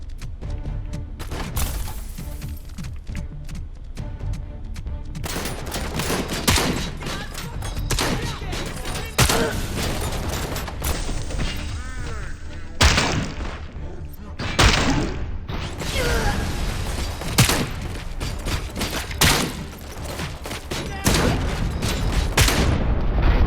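Repeated booming explosions and bursts of gunfire fill the scene, loud and dense, with rumbling impacts and clattering debris throughout, in the video game RoboCop: Rogue City.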